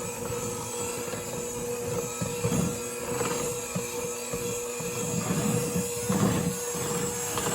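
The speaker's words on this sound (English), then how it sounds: "I'm going to use my mixer at a slow speed to slowly incorporate" An electric mixer runs on slow speed, working flour into shortbread cookie batter with a steady whirring motor hum and soft irregular thumps of the beaters against the bowl.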